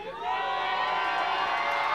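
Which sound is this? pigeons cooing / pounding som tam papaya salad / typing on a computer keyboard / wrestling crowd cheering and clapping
wrestling crowd cheering and clapping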